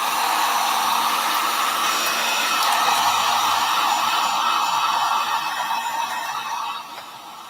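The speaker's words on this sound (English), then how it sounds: "dryer, my heat tool" A handheld heat tool blows steadily over distressed magazine paper, a loud, continuous whooshing roar close by that holds for about seven seconds before dropping away.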